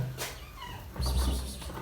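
A cat meows briefly, with a second louder cat sound about halfway through over faint background noise.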